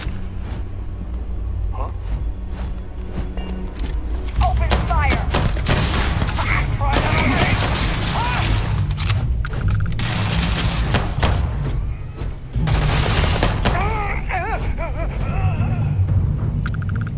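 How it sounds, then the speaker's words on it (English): Enemy gunfire in the video game Starfield, bursts of rapid shots and heavy booms in repeated volleys, loud and close, with someone talking over the fighting. "I believe the enemy is shooting at us"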